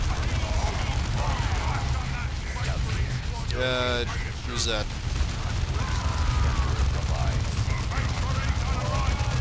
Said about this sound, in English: Oh well, explosions!